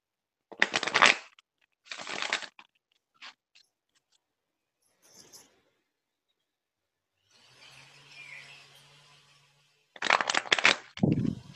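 Several bursts of crisp riffling and shuffling of a deck of oracle cards, close by, separated by short pauses, with a softer rustle in the middle.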